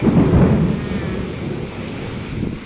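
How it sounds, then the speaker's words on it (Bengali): Thunder in a heavy rainstorm, a loud deep rumble rolling close at the start and fading under a steady hiss of pouring rain. "বিদ্যুৎ চমকাচ্ছে, অঝোরে বৃষ্টি হচ্ছে। ওই দেখো বাজ পড়ছে।"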